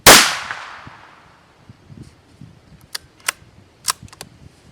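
A single sharp, loud shot from a Marlin XT17VR rifle at a range rings out at the start and decays quickly, followed by a scatter of small, faint clicks and ticks.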